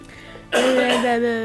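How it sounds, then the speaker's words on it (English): A quiet lead-in, then a sudden loud cough or throat-clearing bursts out up close, trailing into a voiced rasp. "Okay, stop coughing."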